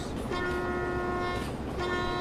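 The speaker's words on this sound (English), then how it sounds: "Big ass train coming through." A heavy locomotive in the Derail Valley train game sounds a steady sustained horn tone that drops out briefly and returns, over a constant rumbling rail roar.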